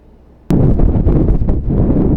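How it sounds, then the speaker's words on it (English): Strong wind suddenly buffets the microphone on a cold, frozen shoreline at Assateague Island, a loud, continuous roaring rush with gusty fluctuations and no voices. "Windy, windy. Very windy."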